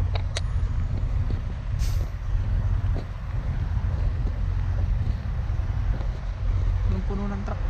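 A heavy truck rumbles past on a cold, icy road near Sault Ste. Marie, a continuous low engine drone with wind buffeting and a brief air-brake hiss, loud and close throughout.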